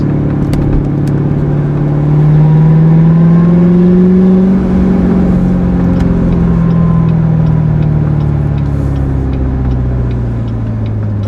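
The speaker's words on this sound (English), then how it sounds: "it definitely is whining. That's funny, but it definitely is a whiner now. You can hear the supercharger." A Corvette Z06 fitted with a DSX supercharger lid drones loudly and close, its supercharger whine rising and falling with engine speed over a steady rumbling exhaust.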